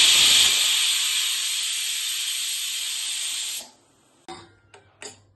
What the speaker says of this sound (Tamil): இருங்க, குக்கரை க்ளோஸ் பண்ணிடுறேன். சவுண்டு வரட்டும்.